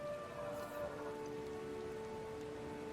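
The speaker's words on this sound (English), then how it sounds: "The wind drives the rain at an angle so sharp as to be almost sideways." Heavy wind-driven rain lashes a ship's deck during a storm at sea in the fantasy game Pillars of Eternity II: Deadfire, a dense steady roar of drops with faint tonal hum beneath, no speech.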